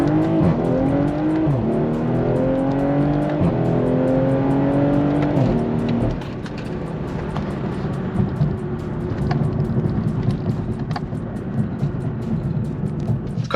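A BMW G20 M340i xDrive with a downpipe and tune launches hard from a brake boost, its engine rising through quick gear changes for about six seconds, then settling into a rumbling, receding drone with faint crackles.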